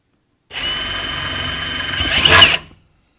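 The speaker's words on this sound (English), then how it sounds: "then I'll change drill bit" A power drill whirs for about two seconds, loud and close, its high whine rising as it bites in before stopping abruptly, drilling a pilot hole while installing an LED rock light.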